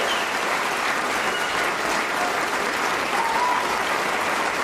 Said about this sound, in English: Oh, clap me a bit.